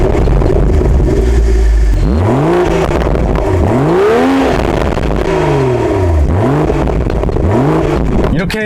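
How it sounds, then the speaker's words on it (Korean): A BMW Z4 M40i engine starts and is revved repeatedly, its exhaust rising and falling in several loud, close sweeping blips that dominate throughout. "그 전에 시동 거는 소리와 배기음을 한번 제가 들려드렸습니다."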